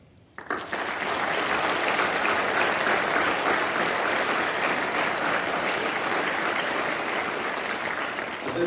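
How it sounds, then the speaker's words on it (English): Sustained audience applause at a school Veterans Day program honoring veterans, beginning abruptly after a brief quiet and holding steady and loud for several seconds as a large crowd claps together. "giving a round of applause for all the brave men and women who stood up when their branch was recognized there"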